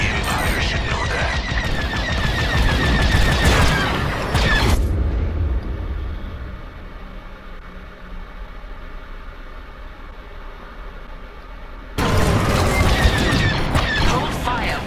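Starfighter laser fire in Star Wars: Squadrons, dense crackling bursts and booms with mechanical whine, loud at the start, dropping to a low engine hum in the middle, then heavy firing returns near the end.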